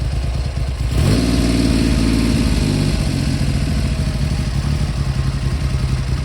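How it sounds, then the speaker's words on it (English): A Triumph Hurricane motorcycle engine idles steadily on choke while warming up. It makes a loud, close, even rumble with a rough mechanical clatter that settles in after a brief rise near the start. "Well, she's still warming up, so I've got quite a bit of choke on her still"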